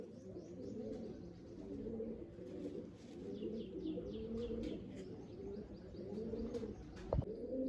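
Pigeons coo continuously in soft, overlapping warbles, with faint chirps above and a brief knock near the end.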